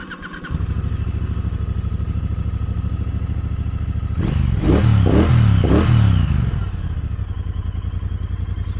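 A 2024 Triumph Bonneville Speedmaster with a 1200cc parallel twin engine starts and settles into a loud, close, steady idle, blips the throttle in a few rising revs midway, then drops back to idle.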